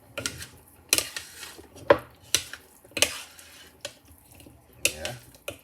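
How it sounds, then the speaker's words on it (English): A utensil stirs and knocks against a pot of food in a home kitchen, giving sharp, irregular clinks and scrapes at close range, with a few quiet background sounds between strokes. "Give it a stir"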